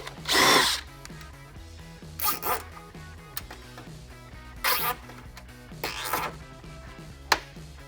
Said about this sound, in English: drilling a couple holes in this pinch weld and zip tying the liner to it